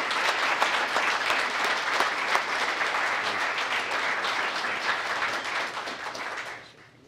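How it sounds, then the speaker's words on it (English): An audience at a police award ceremony applauds a medal of commendation with dense, steady clapping that carries on for several seconds before fading out at the end. "Let's give her a loud round of applause."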